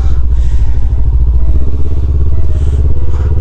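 A motorcycle rides along a narrow one-lane road, its engine droning loud and steady with low rumble and light clatter throughout, with wind noise over the microphone.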